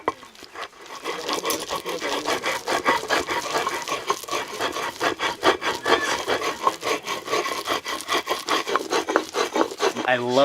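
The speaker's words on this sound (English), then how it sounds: "I love the sound of that rock on rock, but then with the squishing sound of those chilies in between the rocks." Dried chilies for Oaxacan mole negro are ground between stones, a steady rhythmic rock-on-rock scraping and rubbing with soft squishing strokes, close and continuous throughout.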